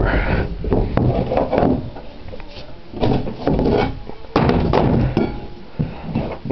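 Plywood floor boards being pried up with a crowbar over a smooth concrete slab, giving repeated close wooden thunks, creaks and knocks in irregular bursts.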